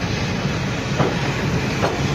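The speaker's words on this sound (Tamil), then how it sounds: "சென்னை எக்மோர்லேருந்து ஷார்ப் டிபார்ட்டிங் டைமுக்கு கிளம்பியாச்சு." Thiruchendur Express pulling out of Chennai Egmore station, a steady loud rumble of rolling coaches with faint rhythmic wheel clatter on the rails and a soft hiss, no voices.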